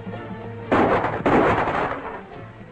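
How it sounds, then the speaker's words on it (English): A rifle shot rings out in a 1937 film serial, one loud crack with a spreading, echoing tail that briefly repeats before fading. "Rifle shot."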